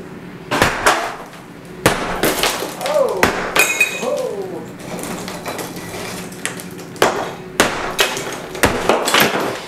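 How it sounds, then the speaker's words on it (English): A mini sledgehammer pounding a tiled shower wall, a series of loud, close impacts with cracking and shattering tile and clinking debris, irregular blows spread through the clip, with a voice briefly heard between strikes. "We'll get this little mini sledge and start beating on this wall here, see what's underneath it."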